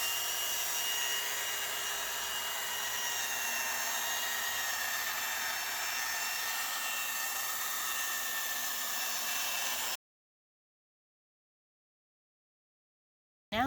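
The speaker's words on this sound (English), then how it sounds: "We just used a belt sander." A belt sander runs on a board of wood that is slightly moldy on one side, giving a steady, loud whining drone for about ten seconds before cutting off into silence.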